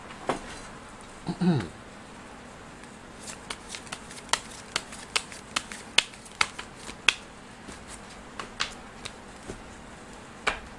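Tarot cards shuffled for a fortune reading: a brief riffle early on, then a steady run of sharp, crisp card slaps and flicks at irregular intervals, close and alone without talk.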